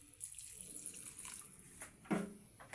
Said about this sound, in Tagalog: Lagyan pa natin ng tubig guys